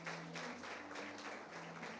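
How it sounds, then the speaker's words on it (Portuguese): Faint, steady applause from a church audience greeting guests, a dense even patter of many hands continuing for a couple of seconds over a low sustained musical tone. "Uma salva de palmas para os nossos convidados"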